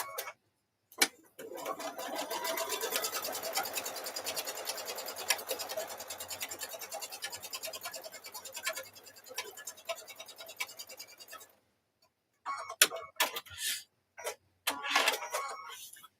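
A sewing machine stitches across a towel in a long, steady burst of fine rapid ticking, then stops and is followed by a few short scattered clicks and bursts. Nobody talks.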